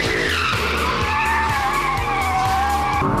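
An Audi R8 sports car drifts on a track with ESP off, loud, sustained tire squeal and skidding over a revving engine, close and continuous throughout.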